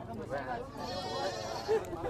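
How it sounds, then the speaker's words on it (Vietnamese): Goats at a rural mountain market bleat several times in short, close calls while people talk nearby. "rất là nhiều dê nha các bạn nha đây dê con này đáng yêu lắm"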